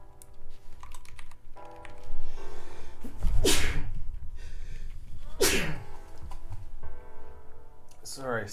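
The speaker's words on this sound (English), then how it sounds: "it causes me to have a sneezing fit for some reason" A person sneezes twice during a game engine coding session, sharp close bursts separated by a couple of seconds, set against quiet computer keyboard typing.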